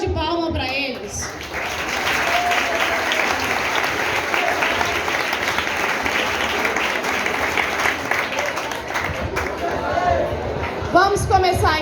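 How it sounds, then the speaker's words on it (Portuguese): An audience at a literary event applauds the authors, a broad steady wash of clapping lasting about ten seconds, with a voice speaking just before it and again as it fades. "Uma salva de palmas para eles."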